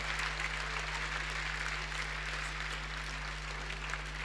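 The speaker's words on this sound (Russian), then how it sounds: "Давайте еще аплодисментами поддержим родителей вместе с детьми." A church congregation applauds parents standing with their children, a continuous even clapping from a crowd heard over a steady low electrical hum.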